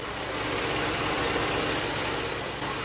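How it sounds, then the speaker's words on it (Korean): A Hyundai Grandeur HD V6 LPI (LPG) engine idles steadily up close with the hood open, a smooth, even hum with a faint mechanical whir and no other sounds. "역시 V6 LPI 엔진답게 정말 정숙하고 깔끔한 엔진 사운드까지 잘 들려주고 있는 모습이고요"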